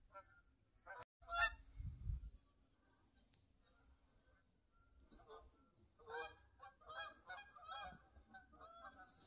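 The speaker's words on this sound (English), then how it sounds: "Sorry, I just felt that I had to show you the geese flying over." Geese fly over a quiet morning trap line, honking in scattered bursts, soft and fairly distant, with a few thumps of handling noise early on.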